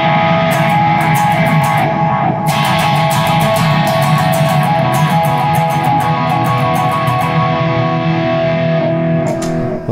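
Clean electric guitar tone from a Kemper Profiler in a rehearsal space, with sustained ringing chords and bright repeated strums, loud and alone.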